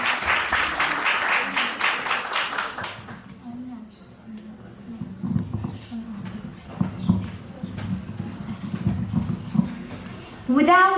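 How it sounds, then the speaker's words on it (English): Applause for a sixth-grade girl stepping up to give a school talk on setting goals, a burst of clapping at the start that cuts off after about three seconds, followed by quieter room noise and talking. "Clap for her."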